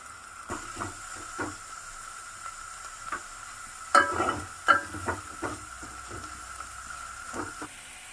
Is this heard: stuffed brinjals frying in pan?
yes